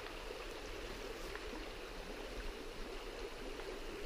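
Steady rushing flow of a river stream in Alaska, a continuous broadband wash of water at even level throughout, fairly close and unbroken, with no voices.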